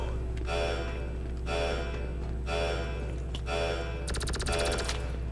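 A powerful gun fires in GTA V gameplay: several loud, harsh bursts in steady succession, ending in a rapid automatic rattle, all over a constant low engine-like hum.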